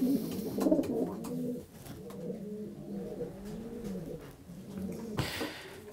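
Racing pigeons coo in their loft, low throaty warbling calls that overlap and roll on steadily, close and moderately loud, with a brief rustling thump near the end.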